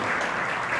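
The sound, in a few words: audience applauding for Nelly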